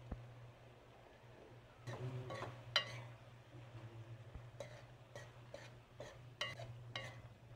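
A spoon stirs cabbage with sardines and oyster sauce in a pan, making quiet scraping, shuffling strokes and sharp metallic clicks over a faint steady hum.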